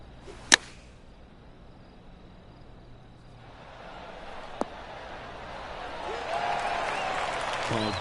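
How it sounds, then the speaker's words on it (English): Golf clap applause from a Tiger Woods golf video game follows a sharp strike, then swells as a soft spattering of claps in the last few seconds. "Oh, golf clap."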